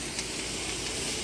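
A pot of water on the boil for pasta, giving a steady bubbling hiss that stays even and close for a brief moment, with no talking.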